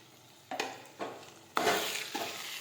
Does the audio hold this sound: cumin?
yes